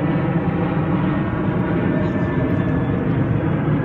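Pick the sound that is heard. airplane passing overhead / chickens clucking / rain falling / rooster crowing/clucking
airplane passing overhead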